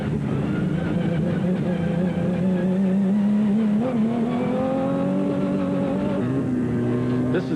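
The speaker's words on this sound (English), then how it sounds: "The truggy of the Herbst brother. This is half buggy and half truck" A Class 1 Jimco truggy, half buggy and half truck, races in the SCORE Primm 300 desert race. Its engine drones loud and steady with a slowly rising pitch and no talk over it.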